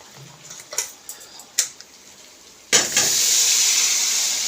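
Chana dal lentils go into a hot frying pan with oil and turmeric: after a few light clinks, a sudden loud sizzle bursts out and holds as a steady hiss to the end.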